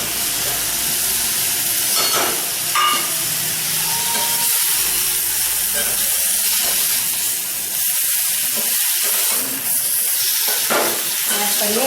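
Tomato chutney sautéing with added spice powders, a steady broadband sizzle and hiss from the pan with occasional stirring clatter, close and fairly loud throughout.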